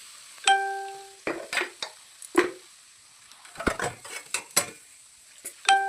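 A utensil stirs potatoes frying in oil in a pan, making scattered scraping and clinking knocks against the metal, close and fairly quiet, with gaps between the strokes.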